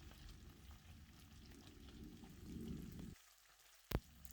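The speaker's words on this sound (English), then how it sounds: "remember to stir the gizzard while it's frying" Steady crackling sizzle of gizzard frying in hot oil for about three seconds, then it cuts out, followed by a single sharp knock.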